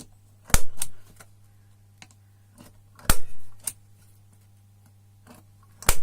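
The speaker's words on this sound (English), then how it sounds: "Let's just punch some starter marks with a centre punch." A centre punch struck into a marked piece of metal, being fixed for a plastic stable shavings fork with a baking tray, gives three sharp close metallic taps spaced a few seconds apart, each with a short ringing tail.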